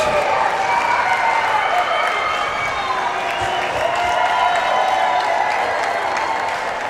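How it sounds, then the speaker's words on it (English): A big crowd cheers and applauds after Mike Sullivan scores in a Dawg Bowl survivor game, a steady loud roar of voices and clapping throughout. "And look at that cheer for Sully"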